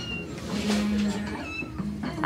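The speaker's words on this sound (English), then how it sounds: "hearing a kitty cat meowing." A cat meows inside a Goodwill thrift store in Salem, Indiana, one clear drawn-out meow followed by softer mews amid store background noise.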